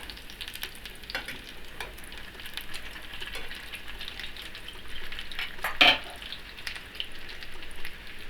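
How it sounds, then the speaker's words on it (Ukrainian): Meat cutlets sizzle in a frying pan with a steady crackling hiss, broken by scattered pops and one sharp clink of a utensil against the pan. "І так смажу всі котлети."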